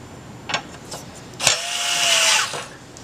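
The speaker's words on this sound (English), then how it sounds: "For this part we will use the short screws to attach the brackets into the enclosure." A power driver drives short screws that fix brackets into an enclosure: a few quiet clicks, then a whirring burst of about a second, close and alone with no talking.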